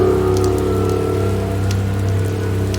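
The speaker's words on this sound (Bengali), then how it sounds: "এ কি, বৃষ্টিটা আবার শুরু হলো?" Heavy rain pours down in a steady, dense wash at a loud level throughout, with no voices, as part of a horror cartoon.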